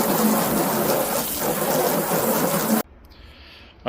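Water sprays steadily over an old jon boat during a transom repair, a loud broadband hiss close by that cuts off sharply near the end and leaves a quiet drip-like tail.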